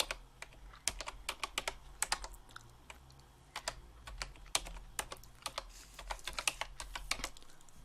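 Login details are typed on a computer keyboard: a steady run of close, crisp key clicks with uneven rhythm and occasional louder taps, with no voices.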